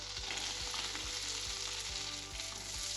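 Asparagus sizzles steadily in hot bacon fat in a pan, a loud, dense frying hiss with soft rhythmic clicks of stirring throughout and no voices.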